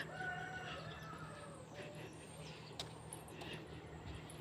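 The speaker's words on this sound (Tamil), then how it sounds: "இதுக்குள்ளே ஃபுல்லாக கோழி எல்லாம் வளர்க்குறாங்க" Distant chickens and a rooster in an Italian town cluck and crow faintly over a steady low hum of background noise.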